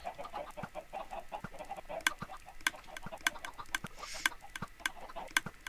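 Minecraft chickens cluck repeatedly in a crowd of about twenty to thirty birds, with irregular overlapping clucks and sharp clicks under a steady low background hum.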